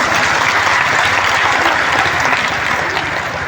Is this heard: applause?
yes